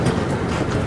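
A wooden roller coaster train at Tivoli Gardens rolls through its brake run without stopping, giving a dense, steady rumble close by for under a second.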